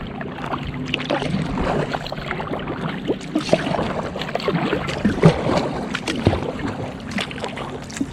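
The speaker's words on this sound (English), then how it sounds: "I'm just going to paddle hard into that line of kelp, and that'll take me into the current." Kayak paddle strokes pulling hard into a tidal current along a kelp line off Sidney Island, with steady water splashing and swishing over continuous flowing water and light wind, no talking.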